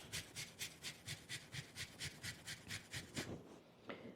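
Onion rubbed on a kitchen grater in about fourteen quick, even rasping strokes, close and fairly quiet, ending in a brief pause and a last scrape.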